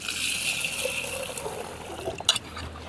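Water poured over soaked pearl millet for rinsing, a steady trickling stream that runs close and fairly loud before a few sharper splashes near the end.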